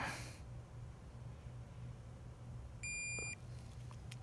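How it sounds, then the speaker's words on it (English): A Snap-on torque wrench gives a single steady electronic beep lasting about half a second as it reaches its set torque, heard clearly over a low background hum. "It vibrated and it beeped."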